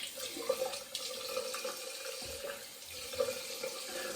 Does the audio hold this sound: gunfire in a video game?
no